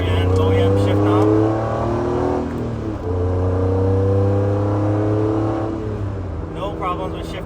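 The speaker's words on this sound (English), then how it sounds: "we're going on a test drive with the MITA shifter and OEM shift knob" An Acura NSX on a test drive with a MITA short shifter and OEM shift knob: a steady engine drone rises in pitch, drops with a gear change, then climbs again, heard from inside the cabin.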